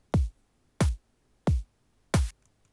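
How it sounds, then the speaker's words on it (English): Four evenly spaced drum hits in a sparse, simple kick and snare pattern from a downtempo electronic track, each punchy and clean with silence between. "enters a very simple kick and snare pattern that sounds like this"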